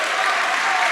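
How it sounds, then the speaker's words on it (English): A crowd applauds a speaker stepping up to a talk, a short loud burst of dense clapping heard alone. "give him a round of applause"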